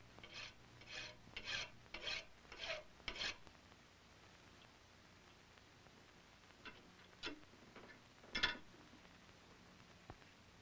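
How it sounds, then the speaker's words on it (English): A hand file rasps on the steel breech of a flintlock rifle barrel: a series of rhythmic strokes, quiet and close, then a pause and a few more strokes. "file down the breech of the barrel until the plug turns around to the proper flat"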